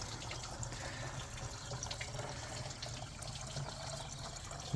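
Water runs steadily into a coolant reservoir on a 2002-2005 Mercury Mountaineer during a radiator flush, a faint, continuous trickling wash close by with no talk.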